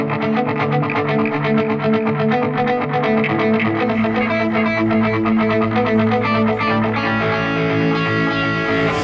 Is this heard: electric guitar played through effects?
yes